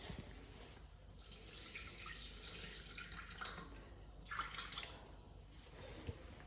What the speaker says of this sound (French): Ensuite, on va mettre 160 g d'eau.